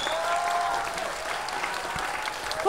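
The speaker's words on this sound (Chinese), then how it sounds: "现在让我们以最最最热烈的掌声和欢呼的尖叫声欢迎师尊师母回家" A crowd applauds warmly to welcome guests home before a Ksitigarbha ritual gathering, dense, continuous clapping at moderate distance with a louder swell at the very end.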